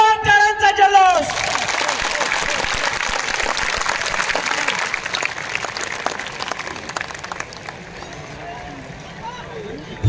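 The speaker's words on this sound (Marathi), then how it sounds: "एकदा जोरदार टाळ्यांचा जल्लोष" A large crowd at an outdoor political rally breaks into loud, sustained applause and cheering that continues for several seconds. The applause starts right after a brief voice and slowly fades toward the end.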